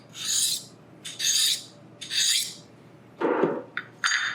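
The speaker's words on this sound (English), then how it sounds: "You hear that high-pitched sound? That's because the file is not cutting into the steel." Repeated high-pitched scraping strokes of a file skidding without cutting over the hardened steel edge of a knife blade, four or five rasping passes, close and fairly loud with short pauses between.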